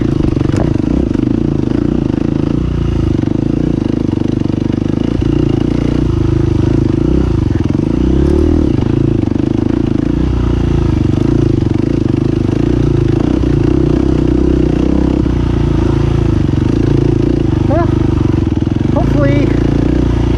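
A motorcycle engine drones loudly and continuously during a night race lap, with clattering and scraping over the steady mid-pitched hum as someone talks over it.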